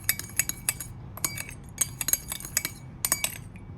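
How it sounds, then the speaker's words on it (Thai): A spoon clinks and scrapes against a bowl while stirring fish sauce, light soy sauce and sugar until the sugar dissolves, giving close, rapid, irregular metallic taps in quick bursts with brief pauses. "คนให้ให้น้ำตาลละลายค่ะ"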